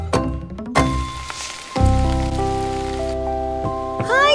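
Cartoon rain falls in a steady soft hiss that runs the whole time, with sustained musical tones sounding over it and a brief swell near the start. No one speaks.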